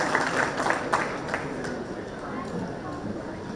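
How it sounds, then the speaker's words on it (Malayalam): Audience applause at an alumni chapter relaunch and logo launch ceremony on stage, a steady broad clatter of clapping that holds for several seconds with crowd noise mixed in. "നല്ലൊരു കൈയടി"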